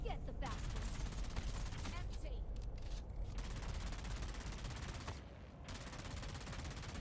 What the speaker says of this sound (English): what kind of grenade is this?